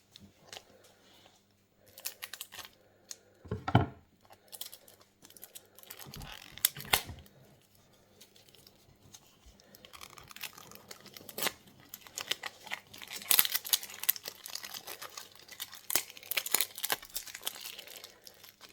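A pack of Monster Tarot cards is handled and unwrapped up close, with soft crinkling of wrapping, scattered taps and rustles, and sharper crackles building toward the end, quiet and without talk.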